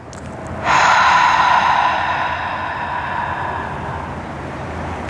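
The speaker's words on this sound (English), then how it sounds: "Take a deep breath in." A deep, audible inhale during a guided stretching session, rising suddenly under a half-second in and holding as a long, steady breathy rush that slowly fades, with no talking over it.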